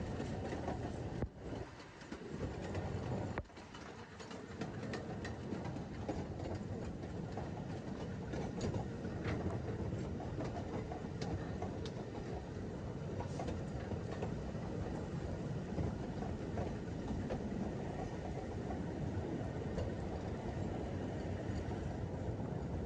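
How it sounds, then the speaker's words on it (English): Ffestiniog Railway double Fairlie steam locomotive Merddin Emrys hauls a train of modern coaches up the line in wet weather, a steady close rumble and rail clatter filling the whole stretch without a break. "it's Merddin Emrys, one of Ffestiniog Railway's unique double fairley locomotives, taking a train of the more modern coaches up the line"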